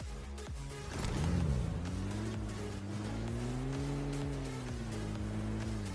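Car driving in a PUBG battle royale game, the engine revving up and holding a steady droning tone as the vehicle speeds along, loud and close with no talk.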